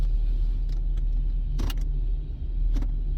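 Steady low road and engine rumble from inside a moving car, continuous and fairly loud, with a few faint clicks and rattles in the cabin.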